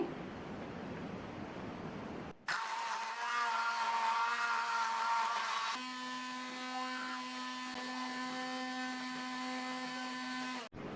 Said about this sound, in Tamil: இப்போ நான் இந்த ஹேண்ட் பிளெண்டரை யூஸ் பண்ணி கடைய போகிறேன்.